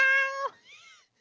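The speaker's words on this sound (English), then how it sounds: "He meowed, a loud, a sound so loud it bent over a tree." A house cat gives one loud, drawn-out meow that ends in a falling tail, followed by a softer, shorter trailing cry, close and alone.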